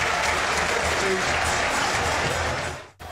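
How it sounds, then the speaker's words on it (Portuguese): A stadium crowd at Almeidão applauds at the end of a football match's first half, dense sustained clapping filling the air, briefly dropping out before resuming. "O fim do primeiro tempo foi marcado por muitos aplausos no Almeidão."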